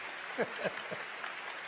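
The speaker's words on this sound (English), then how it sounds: "let the applause continue" Applause from a Web Summit audience in Portugal forms a continuous wash of clapping, with a voice briefly speaking over it.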